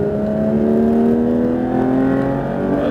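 A loud, close Porsche 992 GT3 RS engine revs up steadily on a race circuit, its pitch climbing as the car accelerates hard, with a constant whining drone throughout.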